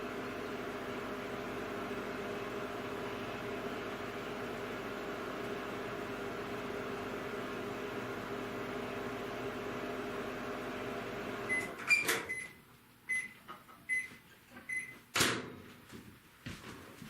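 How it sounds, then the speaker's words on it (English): A microwave oven hums steadily at low level for about twelve seconds, then stops with a beep and the clunk of its door opening, followed by faint kitchen handling noises. "Put this in this here microwave for 30 seconds."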